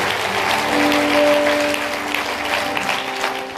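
A church congregation applauding during a sermon, a dense, sustained wash of clapping at full volume with a few sustained tones ringing underneath, easing slightly toward the end.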